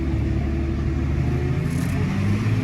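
A New Holland 6050 tractor drives a lap in C gear, its engine holding a steady, deep, rumbling drone close by with no talking.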